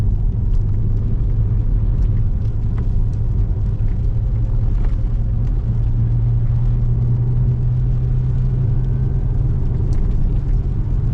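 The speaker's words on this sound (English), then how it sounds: "Loose chippings." Car tyres roll over loose chippings on a wet, misty UK road, a steady loud rumble of road and engine noise from inside the car with faint scattered ticks of gravel.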